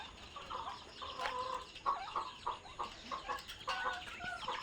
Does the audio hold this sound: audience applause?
no